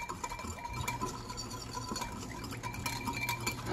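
A utensil stirs a marinade in a bowl, producing quick, repeated clinks and scraping against the bowl in a steady mixing rhythm, close up and without speech.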